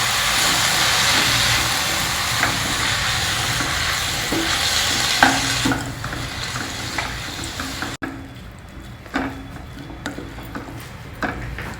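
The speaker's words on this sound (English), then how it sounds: "You can take about 2 to 3 handfuls of these Pudina leaves and just saute them also for just about a minute." Handfuls of fresh pudina leaves sautéing in a pan, a continuous close sizzle with repeated scraping and clicking stir strokes; the frying hiss dies down sharply partway through, leaving quieter intermittent stirring taps. No one speaks.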